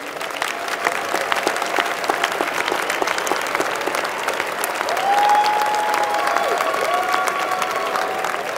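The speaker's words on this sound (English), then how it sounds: "Give your round of applause to the students." Sustained applause from a large crowd at a winter engineering school commencement ceremony, a dense, even wash of clapping that swells slightly midway and continues throughout.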